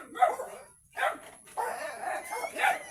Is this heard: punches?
no